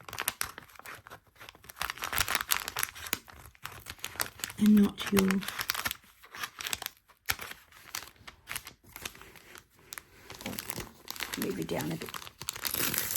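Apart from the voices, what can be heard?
tearing away tear-away stabilizer paper from quilting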